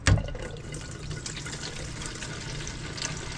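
Diesel fuel pours into the tank of a new diesel heater from an open top, a steady liquid trickle with a brief splash at the start, close by and fairly quiet, no talking.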